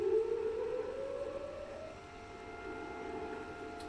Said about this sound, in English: As a sign of respect in Israel, people in traffic stopped as sirens were going off marking this day.